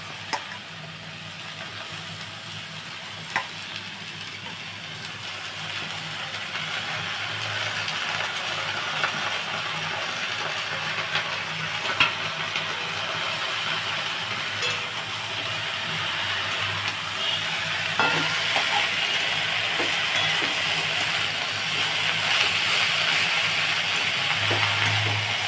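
Chopped drumstick leaves fry with eggplant in a pan, giving a steady, even hiss that builds slightly louder over time, with occasional faint clicks of a utensil.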